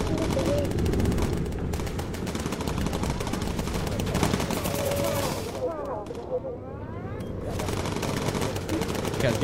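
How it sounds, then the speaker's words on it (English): Bomber turret machine guns in the Bomber Crew video game rattle in long, dense bursts almost without pause, with engine drone underneath and a short lull before the firing resumes. "Keep firing, boys."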